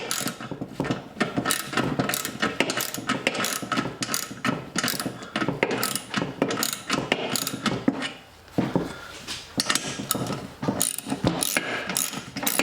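The stand of a Devil Forge DFPROF2 propane forge is being tightened, giving repeated close ratcheting clicks in uneven bursts with a short pause midway.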